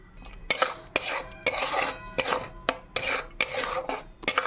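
A spatula scrapes rhythmically against a pan while frying spices with turmeric and poppy seed paste for a prawn curry, giving roughly ten close, gritty rasping strokes in a steady back-and-forth beat with no talking.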